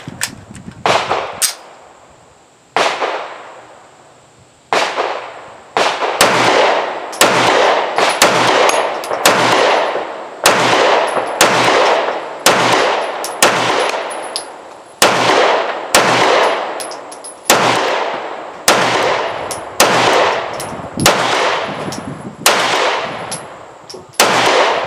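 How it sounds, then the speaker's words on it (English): Sarsilmaz 2000 9mm pistol, a CZ clone, fired at an outdoor range: roughly twenty sharp, loud reports at a steady pace, with a brief pause near the start, each shot ringing out briefly before the next. "Again, this is the Sarsilmaz 2000. It's a CZ clone. So, out at the range, had no hiccups."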